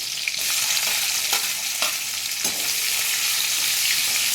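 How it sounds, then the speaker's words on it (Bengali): Chopped green chillies and onions frying in a little oil in a pan, a continuous close sizzle broken by a few sharp stirring scrapes, with no talking. "এগুলোকে একটু ভেজে নেব।"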